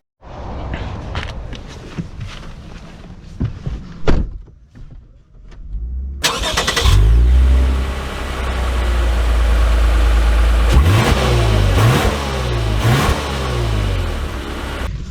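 A 2024 Lexus RC 350 AWD starts up after a few quiet seconds of footsteps and handling, then idles loudly and revs several times in rising and falling bursts, close by, with no talking.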